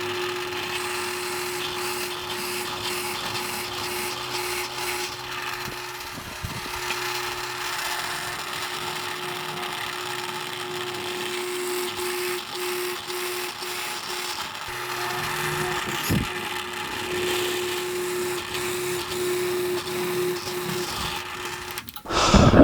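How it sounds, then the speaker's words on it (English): A drill press hums continuously as a Forstner bit bores into a wooden guitar body for the neck pocket, a steady whirring drone with occasional grinding bumps. "I'm going to put a Forstner bit in my drill press"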